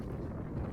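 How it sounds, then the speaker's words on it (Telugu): Strong wind at a beach in England, a low buffeting roar against the microphone, constant and close for a brief moment with no talk. "ఫుల్ విండ్ వస్తుందండి"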